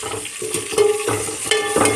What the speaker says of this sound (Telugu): పచ్చిమిరపకాయలు అయితే వేస్తున్నా